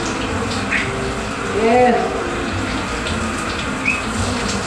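Running water pours continuously to shower a pet parrot, a steady splashing stream with a person speaking briefly over it.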